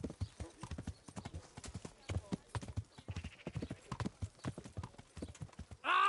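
Rhythmic clip-clop of horse hooves in Kingdom Come: Deliverance, fairly close and steady, ending in a sudden loud burst.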